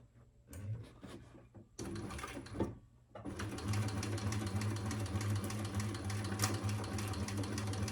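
A sewing machine runs steady, continuous stitches along a bag seam for the Busta Bag, starting in short bursts and then settling into a long unbroken run, close and moderately loud.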